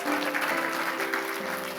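Sustained applause from a church audience during an Indonesian sermon, dense clapping heard alongside a steady low hum and tonal background, continuous and fairly loud throughout.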